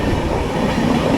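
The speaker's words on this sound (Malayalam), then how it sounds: "മുംബൈ CSMT മഡ്ഗാവ് ജനശതാബ്ദി എക്സ്പ്രസ് ആണിത്." The Mumbai CSMT–Madgaon Jan Shatabdi Express rolls past with a loud, steady rail rumble and a continuous wheel roar, heard close with no speech.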